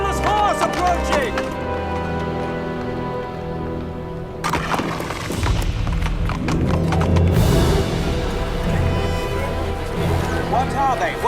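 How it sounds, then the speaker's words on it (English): Riderless horse galloping up with rapid hoof clip-clops and loud neighs and whinnies, close and prominent, with people talking over the hoofbeats. "Riderless horse approaching!"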